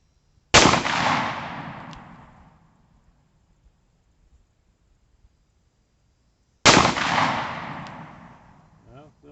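A Taurus 605 revolver with a 2-inch barrel fires .357 Magnum rounds at a target 100 yards away outdoors, two loud, sharp reports several seconds apart, each trailing off in a long echoing decay.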